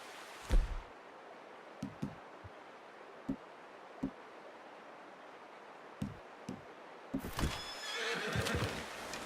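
A horse in the Red Dead Redemption 2 video game whinnies loudly near the start, followed by scattered soft hoof thuds and clops, then a brighter rustling, breathy stretch toward the end.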